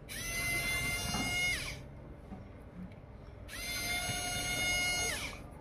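K02 precision electric screwdriver whirs in two high-pitched motor bursts, each just under two seconds long with a quiet pause between, close up over a faint room background.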